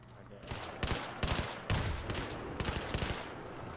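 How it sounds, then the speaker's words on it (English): Battlefield 3 video game gunfire in loud, heavy bursts of closely spaced shots repeating every half second or so, dense and near. "You got shot about the face and head several times."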